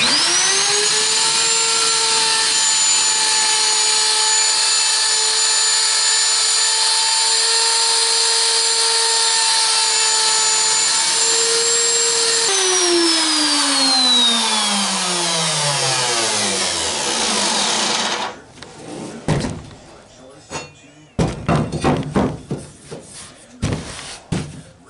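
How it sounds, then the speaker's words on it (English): A router cuts into boat deck material during a seating build, a loud sustained high whine that holds steady, then spins down in a falling pitch and gives way to clattering bursts of handling noise. "That router works this material excellent, and it slings it everywhere."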